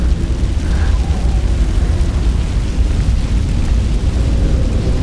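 A fire burning in the Beyond Two Souls video game, heard as a loud, steady low roar and rumble that fills the whole stretch without letting up, with no voices over it.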